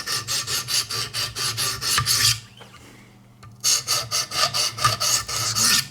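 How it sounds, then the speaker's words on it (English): A Buck 110 knife is sharpened on a Wicked Edge sharpener with rapid, rhythmic rasping strokes, close and loud, pausing briefly midway before the steady back-and-forth scraping resumes. "I'm taking a sharp knife already, and I'm just going to make it a lot sharper"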